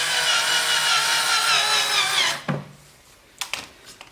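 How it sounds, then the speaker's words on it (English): Power screwdriver running a screw into a Mercedes-Benz GLC LED headlight tab repair kit, a loud close motor whir for about two seconds ending in a clunk, followed by a few light handling knocks. "just grab our screwdriver and run it in"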